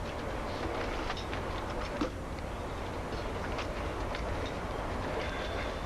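Passenger train running on rails, a steady close rumble and rattle of the carriage with faint rhythmic clicks, continuous with no talk.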